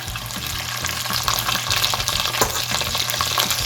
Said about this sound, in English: we're going to fry these until they turn nice and golden brown